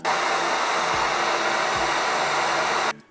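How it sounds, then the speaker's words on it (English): A heat gun on its maximum heat setting blows at phone screws with a steady, loud whooshing hiss, a couple of faint low clicks beneath it, before it cuts off at the end. "I'm just basically heating each screw at the max heat setting for between 20 and 30 seconds"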